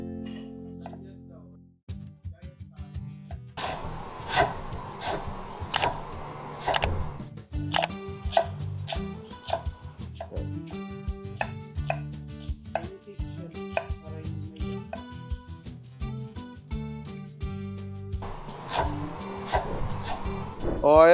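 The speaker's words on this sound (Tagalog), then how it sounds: "I will slice my carrot now." Knife slicing a carrot on a cutting board: quick series of sharp, crisp chops in irregular bursts, close and clear, with a short pause midway.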